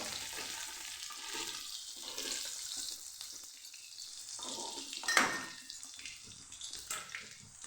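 Green garlic sautéing in hot oil with cumin seeds gives a steady, moderately loud frying sizzle, with a brief sharper clink or spatter near the end.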